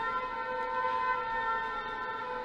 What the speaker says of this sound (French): Excusez-moi pour les sirènes.